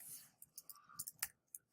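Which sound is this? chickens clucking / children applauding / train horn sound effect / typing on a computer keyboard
typing on a computer keyboard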